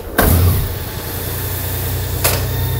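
A new motorcycle engine cranks and catches, then settles into a steady, loud idle close by with a brief blip near the end and no talking.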